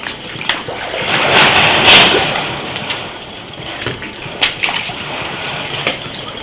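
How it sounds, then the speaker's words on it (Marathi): Flood water from the Gad river runs through the Magjan market at Sangameshwar, Ratnagiri, after heavy rain: a steady broadband rush and wash with scattered splashes and surges, fairly loud and continuous, with no voices. "रत्नागिरीमध्ये संगमेश्वरमध्ये पडणाऱ्या मुसळधार पावसामुळे मागजन बाजारपेठ पाण्याखाली गेली आहे."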